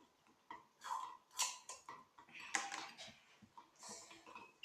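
Stirring a slime mixture made with borax in a container: irregular soft scraping and light clinking taps, close and quiet, coming in uneven bursts with short pauses.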